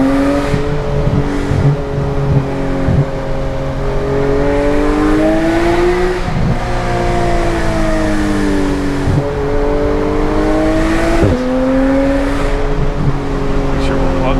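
A Porsche 911 GT3 engine pulls hard through the gears, revving up with rising harmonic sweeps, upshift breaks near the middle and again later, then climbing again. It is loud and continuous, heard from inside the car with some voices.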